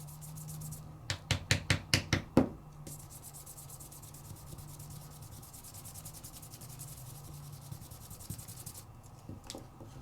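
Ink rubbed by hand across embossed paper, giving a quick run of close, rhythmic scraping strokes, then quieter scattered rubbing over a low background hum.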